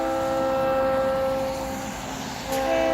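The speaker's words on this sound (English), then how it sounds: "This is a train." A train rolling across a bridge, heard from the middle of the span as a steady, moderately loud rumble with sustained tonal squeal and hum, dipping briefly before swelling again near the end.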